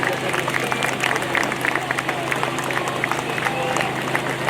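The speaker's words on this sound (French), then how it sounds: "Je voudrais qu'on les applaudisse chaleureusement, s'il vous plaît" A crowd at a rally against Christianophobia in tribute to Ashur Sarnaya applauds warmly, a steady, dense wash of clapping held at an even level throughout, with a faint low hum beneath.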